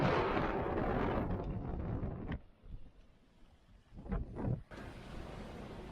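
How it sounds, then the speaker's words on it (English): A detached rudder bangs underneath a boat: deep, irregular thuds and bangs knock against the hull amid constant rushing wind and water noise, with a few sharp heavy knocks. "It's banging underneath the boat."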